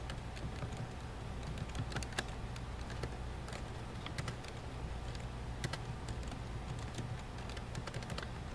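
Computer keyboard typing in fast, irregular keystrokes over a steady low hum, fairly close and moderately loud, with no talking.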